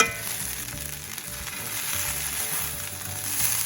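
Brunch food browning in a frying pan gives a steady, close sizzle that runs the whole time, with a low rumble underneath and no voices.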